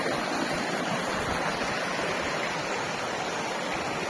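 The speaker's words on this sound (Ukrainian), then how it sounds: "Такі струмочки по дорозі течуть." Small mountain streams flow beside a road on the way up to a lake in Zakarpattia, a faint, steady watery rush that stays constant throughout.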